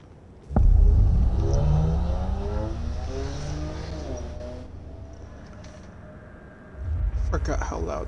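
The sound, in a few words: loud cars driving in Control video game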